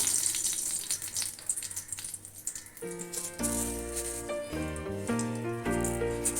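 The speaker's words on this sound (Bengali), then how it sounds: "আমি কড়ায় সর্ষের তেল দিয়েছি এটা সর্ষের তেল দিয়ে করব আমি দুটো শুকনো লঙ্কা ফাটিয়ে দিলাম" Dried red chillies crackle in hot mustard oil in a wok, a faint spitting rattle that gives way midway to a loud tonal clang and ringing.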